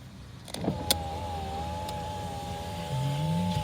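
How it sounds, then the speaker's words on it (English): Electric power windows on a Holden Commodore VF SV6 whir as they move, a steady motor hum lasting a few seconds after a couple of clicks, with a short rising whine near the end. "It's got your electric windows."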